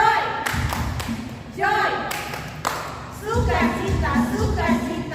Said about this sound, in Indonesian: adik-adik tadi kita sudah Tepuk tepuk sukacita